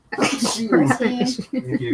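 A person sneezes sharply near the start, the burst followed at once by close conversational speech.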